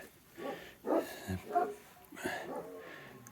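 A rescued stray dog whimpers and lets out short yips and barks in uneven bursts, fairly close and not very loud.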